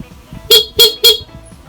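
Horn of a Honda XRM 125 motorcycle fitted with a Domino Honeywell switch, sounded in three short, loud, evenly spaced beeps close by.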